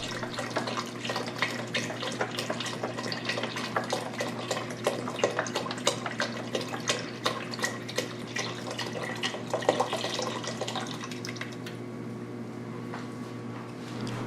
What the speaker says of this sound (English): Here I'm adding my 4 cups of beef stock